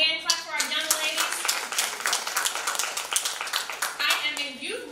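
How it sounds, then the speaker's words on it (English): Audience at a 2017 forum parallel session clapping for young women: dense, sustained hand clapping from a crowd that fills the room for several seconds, tapering briefly before a final swell. "Can we just give a hand clap for our young ladies?"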